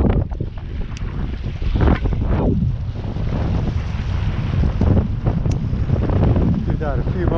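Heavy buffeting wind noise on a fishing boat as it turns into the wind, roaring close and loud on the microphone with water sounds beneath and some talking mixed in.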